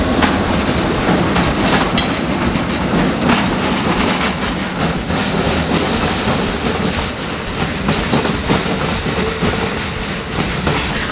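A small train rolls past close by, with a loud continuous rumble and rattling wheel clatter that holds steady throughout, and no voices.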